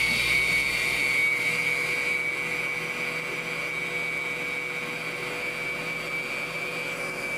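An electric mixer whips cream into chantilly, a steady close whirring drone that holds an even pitch and level throughout, with no talking.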